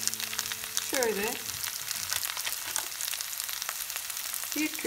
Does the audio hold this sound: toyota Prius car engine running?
no